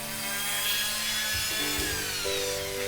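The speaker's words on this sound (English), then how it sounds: "Using my Dremel tool, I drilled small holes in which the rhinestones would eventually fit." A Dremel rotary tool whines steadily up close as it drills small holes into a handmade wooden wand, its pitch dropping and shifting as the bit bites in, with no voices.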